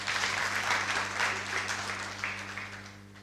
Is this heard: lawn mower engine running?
no